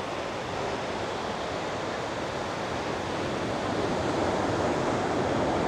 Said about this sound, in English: I'd listen to that ocean all day long.